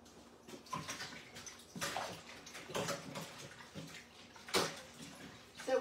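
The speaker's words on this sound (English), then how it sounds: "Get these feeders washed." Bird feeders being washed under running water, with splashing and irregular bursts of flowing water and clunks of handling, fairly quiet and close.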